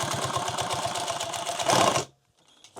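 A sewing machine stitches a single line on a leather Leatherman pouch, running with a fast, even chatter up close, speeding slightly near the end before stopping abruptly, followed by a few faint handling clicks.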